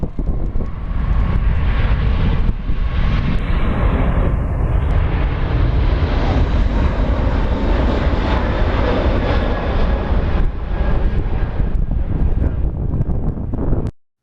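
An Emirates Airbus A380 airliner roars loudly and continuously during an aborted landing in a crosswind, with heavy wind buffeting the microphone throughout and no one talking.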